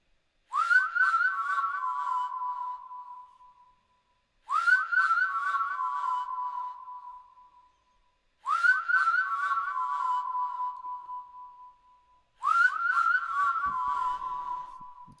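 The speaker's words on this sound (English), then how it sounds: "And then there's obviously the whistling, which is probably the most important element of the track" A whistled melody, the main hook of the track, repeats four times in near-identical phrases, each opening with quick rising notes and then holding a long tone before a brief pause.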